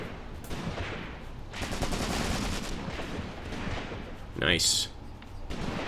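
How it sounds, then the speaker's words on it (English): Rapid machine gun fire in the WW2 wargame Graviteam Tactics: Mius Front, sustained crackling bursts close by, loud and continuous, with someone briefly speaking over it. "We got some machine guns, machine gun rounds going downhill."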